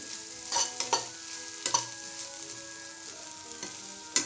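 Potato filling for aloo methi paratha sautéing in a pan, with a low sizzle under a handful of sharp spatula scrapes and taps against the metal, close and uneven, no voices.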